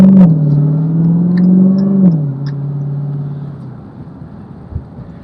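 A Dodge Challenger Demon's engine gives a deep droning rev that holds, drops in pitch, then settles and fades to a low idle rumble, heard loud and close.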